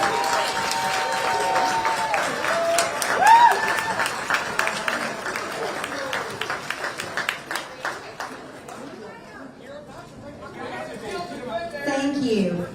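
A crowd of supporters at a political event claps and cheers steadily, with chatter and voices mixed into the applause, which swells and fades over several seconds.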